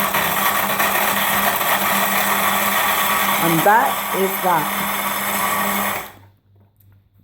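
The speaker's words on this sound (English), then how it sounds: "you could kind of hear my voice underneath the blender noise" A Bosch Silent Mixx blender whirs loudly and steadily blending Oreos, a voice speaking briefly under the motor noise, before the machine cuts off abruptly into near silence.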